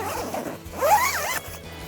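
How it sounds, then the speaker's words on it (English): A zipper pulled open along the door of a Marmot Tungsten 3P backpacking tent, one close, loud, continuous rasping pull lasting under two seconds. "you can zip this completely open"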